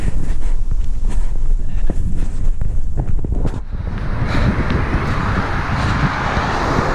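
Strong wind buffets the microphone of a runner out on a city street beside traffic, a loud continuous roar that shifts into a broader rushing gust midway, with no talking.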